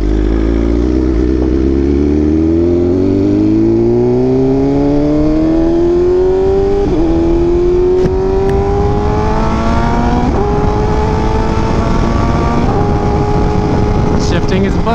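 BMW M1000RR motorcycle with a full titanium SC exhaust accelerating hard, its rising engine note climbing steadily through several upshifts, loud and close throughout.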